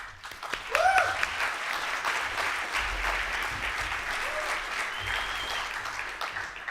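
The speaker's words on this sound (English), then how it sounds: "People are still clapping" Sustained applause from a conference audience at a liberty festival as a speaker takes the stage, steady clapping throughout with a few whistles near the start.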